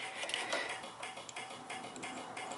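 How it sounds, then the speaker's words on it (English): A left turn-signal flasher on a 1964 car ticks faintly and quietly in a steady, sparse rhythm, with the light clicks barely standing out from a soft background hiss. "So that'll be left blinker."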